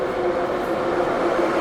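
An old metro train in Uzbekistan runs loudly, a steady, dense rumble and rattle of the carriage close by, filling the whole stretch with no pauses and no voices.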